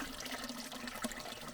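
A hand dips into a small mountain water source in Oregon's Ochoco Mountains, giving a faint, close trickle and swirl of water with one small splash near the end.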